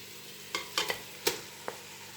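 Thai curry paste being stirred and fried in a pan for Mee ka tee, with a few scattered scraping and clinking stirs over a faint sizzle, quiet and close.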